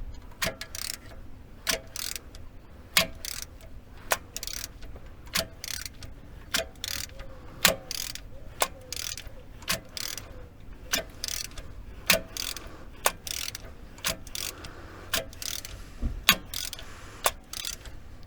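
Camshaft of a VW TDI engine turned by hand, giving a slow series of sharp mechanical clicks and ratchet ticks at irregular intervals about a second apart, close and fairly quiet with no talking.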